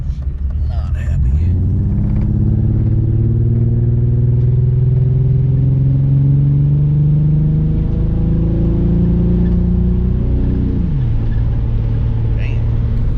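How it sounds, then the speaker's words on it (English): BMW E36 fitted with a Subaru STI engine revving up, the boxer note climbing smoothly over several seconds before dropping back, loud and close with a rumbling idle at either end. "It sounds like a Subaru. It's that STI, son. I got that STI motor in the E36."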